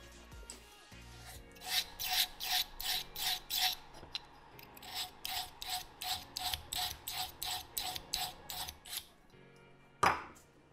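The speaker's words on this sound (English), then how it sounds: "if I take this dull blade and I sharpen it" A dull craft knife blade, used for cutting EVA foam, is sharpened with a quick run of rhythmic rasping strokes, about eighteen in all, close and fairly loud. A single harsher scrape follows after a short pause.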